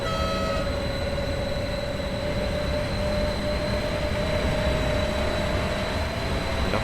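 A FLIRT Express electric multiple-unit train pulls away from the Luzern platform in the Train Sim World 2 video game, producing a steady rumble with a rising motor whine and a faint high tone, continuous and fairly loud.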